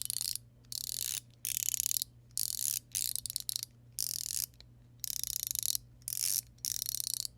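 An EDC fidget slider, the Crispy Stick by Rogue EDC, hops across small detents on its skate track, giving quiet, rapid bursts of mechanical clicking that come in short repeated runs separated by brief pauses, close up with a steady low hum beneath.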